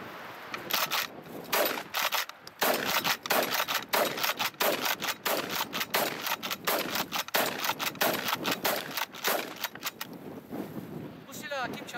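Rapid gunfire from a UTAS UTS-15 pump shotgun fills the recording with loud, sharp blasts in dense succession, with a few clicks of the action near the end.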